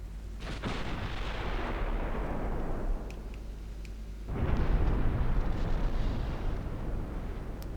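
Warship naval guns firing in Ultimate Admiral Dreadnoughts: a deep, rumbling salvo roars out, fades over a few seconds, then a second heavy boom swells and lingers, low and loud with faint crackles.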